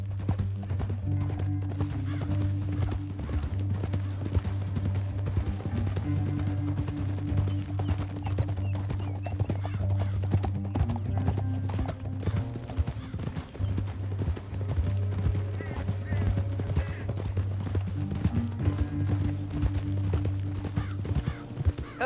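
Horse hooves clatter in a steady gallop in the Red Dead Redemption 2 epilogue, running continuously under a loud, sustained low musical score and game ambience.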